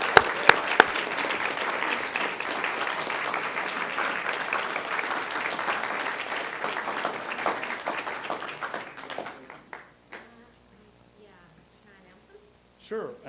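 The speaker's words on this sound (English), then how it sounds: "Please give this group a nice round of applause and congratulations." An audience at a school board meeting gives a sustained round of applause for about nine seconds, dense and fairly close, then it thins out into scattered claps and quiet murmuring.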